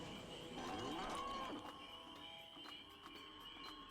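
Cows low faintly in Spyro: Enter the Dragonfly on Farmer Dill's farm, a brief soft moo set back within quiet game ambience, with light clopping steps following.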